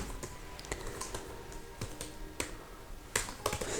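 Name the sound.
typing code on a computer keyboard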